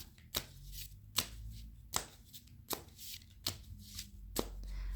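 A deck of oracle cards being shuffled by hand, with six sharp riffling snaps spaced roughly every second over a low steady hum, close and clear with no talking.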